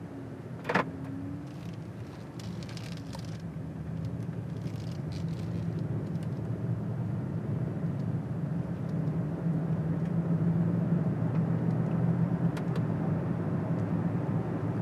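A 2015 BMW 750i engine steadily builds and hums as the luxury sedan gets under way, with road noise rising gradually and a brief click near the start.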